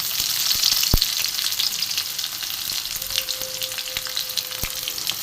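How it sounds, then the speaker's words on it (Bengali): Chopped onions fry in hot oil with a continuous bright sizzle close to the pan, broken by a couple of sharp clicks and a faint steady tone, with no voices. "একটু পেঁয়াজ কুচি দিয়ে দেবো, দিয়ে একটু পেঁয়াজটা ভালো করে ভেজে নেবো।"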